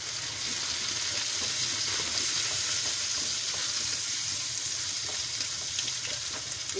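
Garlic-ginger paste frying with golden-browned onions in a pan, a steady close sizzle with bits of stirring throughout and no voices.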